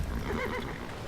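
Horses whinny in the Civilization V video game, one short, fairly quiet neigh with faint hoof sounds around it.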